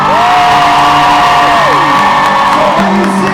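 A convention crowd at a fan panel with Jensen and Jared in Austin cheers and whoops loudly and close by, with one long sustained shout held above the roar.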